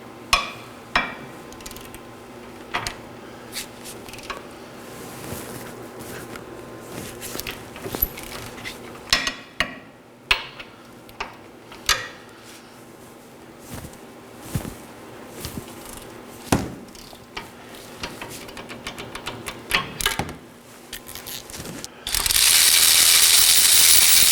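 Caliper bracket bolts on a 2013-2019 Nissan Sentra being loosened with a 19mm wrench: sparse metallic clicks and clanks over quiet garage ambience, ending in a sudden loud hiss.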